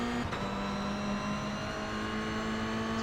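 A blue car in a racing video game, heard as a steady loud engine drone holding one pitch with a brief whoosh near the start, no talk.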